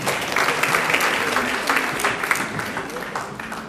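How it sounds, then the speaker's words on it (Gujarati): Devotees at a Shrimad Bhagwat Saptah religious gathering applaud in a continuous, fairly loud round of clapping, with a voice speaking over it. "એકવાર એમના માટે પણ તાળીઓ"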